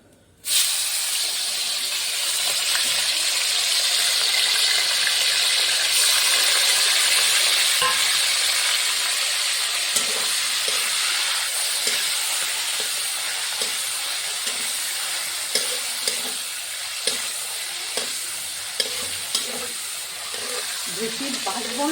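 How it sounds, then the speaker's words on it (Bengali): Salted hilsa fish frying in a little leftover oil, a steady broadband sizzle and hiss that holds close and loud throughout, with faint scraping clicks of stirring toward the end. "সেই তেলটা দিয়ে আমি নোনা ইলিশগুলো ভেজে নেব"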